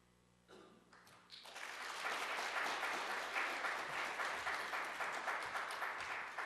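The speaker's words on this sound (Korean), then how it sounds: "선교사님이 나오실 때 박수로 환영해 주셨으면 좋겠습니다." Applause from a church audience welcoming a missionary, starting after a brief quiet moment and swelling into sustained, dense clapping that fills the room.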